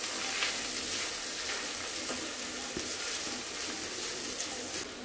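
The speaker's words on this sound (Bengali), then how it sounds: "ডিমটাকে একেবারে ঝুরি ঝুরি করে ফেলবো।" Egg crumbled and scrambled in a hot pan for noodle samosa filling, a steady close frying sizzle with light scraping and stirring throughout, no talk.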